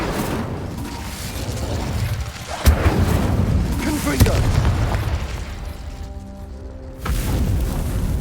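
A fire spell cast in Hogwarts Legacy erupts as a sudden loud burst, then a rumbling, roaring blaze that swells and fades over a busy game soundscape, with a few thumping hits along the way.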